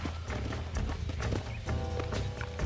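Rapid rhythmic clip-clop of horse hooves in the Red Dead Redemption video game, loud and close, a quick running gait repeating steadily throughout.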